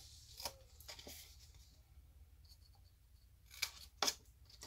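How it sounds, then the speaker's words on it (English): Scissors cutting cardstock tabs for a coin envelope craft, a few quiet, crisp snips spaced out with a double snip near the end, close and faint against a quiet room. "We are now going to cut away this top rectangle piece."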